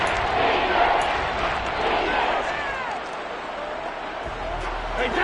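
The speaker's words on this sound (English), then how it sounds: "The crowd here in the Dome making things difficult." Stadium crowd noise inside a Madden football video game in a domed arena, a loud, steady wash of roaring fans and cheering that holds throughout, with a commentator's voice faintly mixed in.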